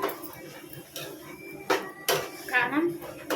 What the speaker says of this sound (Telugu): తిప్పేస్తున్నాను